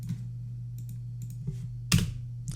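Keys clicking on a computer keyboard while a file path is entered for Python video editing work, a few soft, sparse taps over a steady low hum, with one louder clack near the end.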